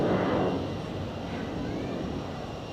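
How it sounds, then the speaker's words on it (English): Helvetic Airways Embraer 190 jet departing from runway 28 at Zurich Airport, a steady broadband engine roar heard from a distance, loudest at the start and easing slightly as the plane moves away. "on runway 28, a departure to Warsaw. This is an Embraer 190 of Helvetic."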